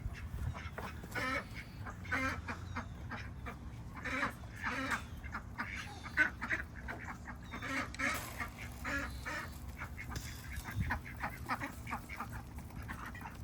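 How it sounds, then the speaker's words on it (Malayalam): Ducks quack repeatedly in a steady, busy chorus, several birds calling close by with no talking, at a backyard poultry yard in America. "ആദ്യം താറാവിന് തീറ്റ കൊടുക്കാമേ"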